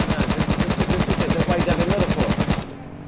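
Rapid, steady machine gun fire from a battle royale video game, H1Z1, loud bursts repeating in quick rhythm for about two and a half seconds before cutting off abruptly.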